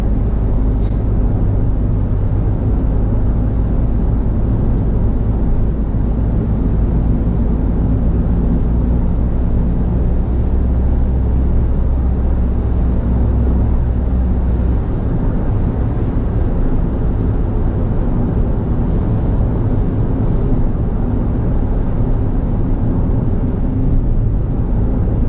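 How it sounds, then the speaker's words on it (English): Kei car cabin on the motorway at about 50 mph on a very windy day: steady low road and wind roar with broadband hiss, constant and fairly loud throughout, no talking. "I just want you to hear what I'm hearing in the car so you get an idea of what it actually sounds like."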